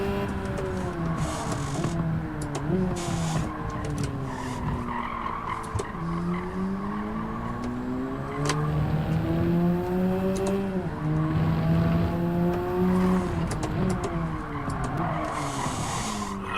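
A race car in Gran Turismo 7 brakes hard with long, wavering tire squeals and skids over a steady engine roar, the squeal rising and falling repeatedly across the run, loud and close without speech.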